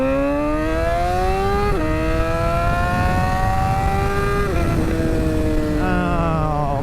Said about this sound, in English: Oh man, this bike sounds so good